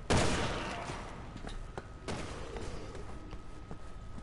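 Rapid gunfire in Resident Evil 6's Leon campaign: a loud opening burst, then a string of sharp, separate shots roughly every half-second over a dense background of game noise.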